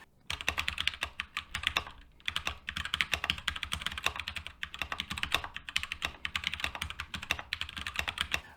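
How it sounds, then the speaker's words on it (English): Typing on a Keychron Bluetooth wireless keyboard: brisk, continuous clacking keystrokes close by, broken by brief pauses, fairly quiet, with no speech. "It's a Keychron. It's a Bluetooth wireless keyboard."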